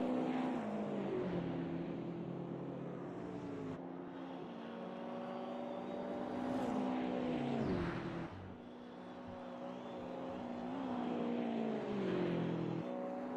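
A BMW race car in a sim racing game at Spa, engine wailing steadily at high revs with rising pitch through the gears and brief drops on downshifts, loud and close, with no talking over it.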